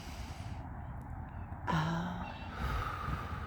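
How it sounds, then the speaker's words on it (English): One deep breath is drawn in outdoors on a nature walk, close to the microphone, rising against a quiet open-air background. "take a few deep breaths in the moment with me, breathe in"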